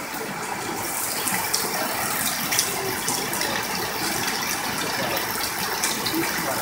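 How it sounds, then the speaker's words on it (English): Water pours and splashes steadily as a full bucket is tipped out during the Liberian rainy season, a continuous bright gush that carries on without a break and without speech. "Tip some over. Get rid of some water."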